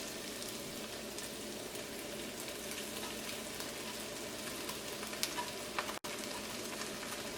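Chicken fried rice sizzles steadily in a hot pan, a continuous close frying hiss with occasional light scraping of the stirring spoon and no voices.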